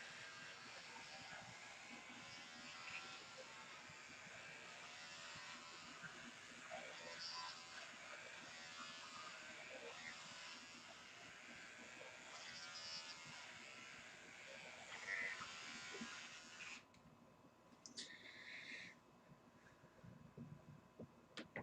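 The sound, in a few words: electric hair clippers cutting hair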